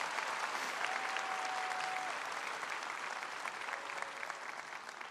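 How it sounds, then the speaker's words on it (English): Big crowd clapping at a graduation ceremony, a dense, sustained wash of applause that stays loud throughout and eases slightly toward the end. "Let's give your family and friends a big round of applause."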